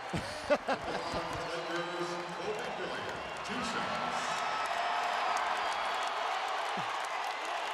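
A basketball arena crowd at a Raptors–Lakers NBA game in Toronto roars and cheers after Kobe Bryant reaches 80 points, a broad sustained wash of noise that swells midway, with a few sharp thumps early on.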